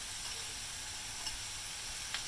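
Garlic, about two heaping tablespoons, sizzles in a pot while cooking filling for a pot pie, a faint steady frying hiss with a couple of small crackles, no talking.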